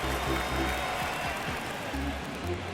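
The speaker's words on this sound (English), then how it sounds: "Crowd locked in right now." A baseball crowd at a Minnesota Twins versus Long Island Ducks game in the ninth inning, just after a foul ball, gives a steady, dense roar and murmur with scattered claps, while an announcer talks over it.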